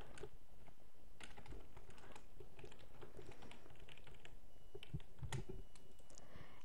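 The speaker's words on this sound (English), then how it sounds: "I'll quickly just type in my username and password" Quick irregular keystrokes on a computer keyboard as a username and password are entered to log into Minecraft, light close clicks running steadily for several seconds over a faint room hiss.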